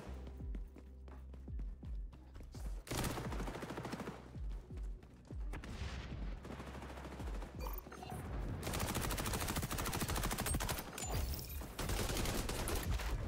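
Gunfire in the video game XDefiant, including a revolver, comes in rapid bursts and clustered shots, sparse at first and then a dense sustained volley of loud cracks near the end.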